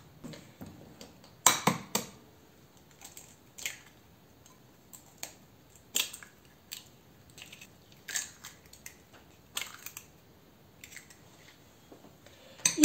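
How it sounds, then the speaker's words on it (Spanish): A kitchen knife chops an onion on a cutting board, giving irregular close, sharp taps and crisp slicing crunches in short bursts with quiet gaps, with no talking. "Ya por último estoy picando la cebolla, termino de picarla"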